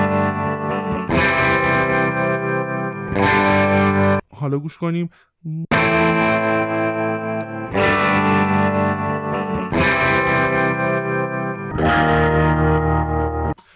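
Sung or played musical phrases pitch-shifted up a whole tone in Reaper audio editing software, with a processed, effected timbre; several sustained harmonic phrases separated by brief gaps, with a short spoken interjection in the middle.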